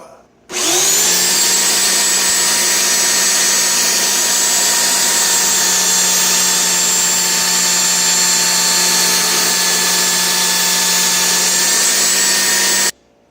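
A power tool whines at a steady high pitch while sanding a chainsaw bar, starting suddenly and running loud and unbroken for about twelve seconds before cutting out.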